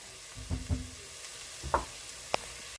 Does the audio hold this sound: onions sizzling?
yes